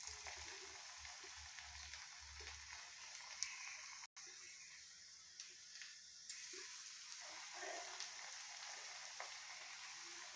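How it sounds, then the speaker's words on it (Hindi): Coriander leaf pakoras fry in hot oil over a low flame, a soft, steady bubbling sizzle heard fairly faintly with a few small clinks as batter is dropped in. "तो अब इसमें हम पकौड़ियाँ तलना स्टार्ट करते हैं।"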